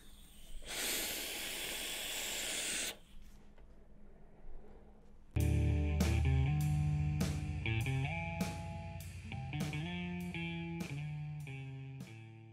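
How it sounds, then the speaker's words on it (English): An e-cigarette gives a breathy vapor hiss that lasts about two seconds, then fades. A quiet stretch follows, and then plucked, tonal music starts and carries on to the end. "mix on, vape on."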